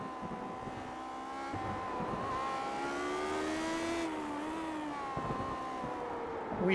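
Vintage Lotus 79 racing cars in the iRacing sim, an all-star race at Homestead road course, their engines droning steadily with rising and falling pitch as they run on track, fairly close and continuous throughout.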